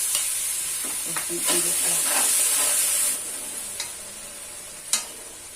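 Garlic fries in hot oil for a chicken curry, giving a steady, close sizzling hiss throughout. A few scraping stir clicks and a sharp tap near the end break through the sizzle.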